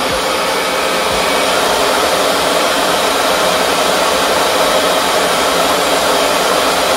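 A RevAir reverse-air hair dryer runs on thick 4c and 4b natural hair, a loud, constant close-up roar of rushing air and motor whine that holds steady from start to finish with no voices.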